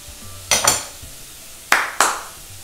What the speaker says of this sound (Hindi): तो ये हाई फ्लेम पे आपने 2 मिनट तक सौते करना है।